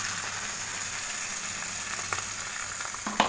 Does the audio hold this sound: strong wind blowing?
no